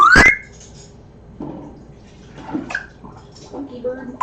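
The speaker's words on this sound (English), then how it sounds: "Water. It is water." Water running loudly beside a pet bird's spot indoors, a continuous wash under a sharp burst at the start, with a person talking softly over the flow.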